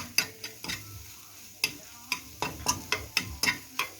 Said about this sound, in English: I partial scramble it because remember it's going to be cooked with the rice as well